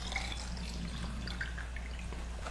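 Water trickling and dripping steadily into a glass while making an electrolyte energy drink from a British Army meal ration, a soft continuous pour with light splashing, no talking.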